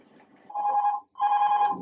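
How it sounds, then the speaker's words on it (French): A telephone rings in two clear bursts separated by a short pause, each a steady electronic trill, heard alone and fairly close indoors without talk. "C'est téléphone, il faut le décrocher."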